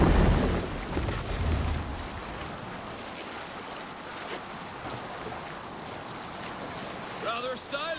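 A sailing ship moves across the open sea in Assassin's Creed, with a steady rush of wind and surf that is louder at first and then settles into an even roar, plus faint tonal calls near the end.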